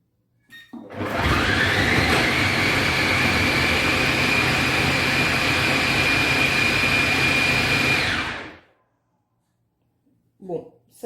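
A Kenwood Cooking Chef mixer blending salt cod fritter batter at speed 3 gives a loud, steady whirring roar for about seven seconds, then cuts off into silence before a voice briefly speaks.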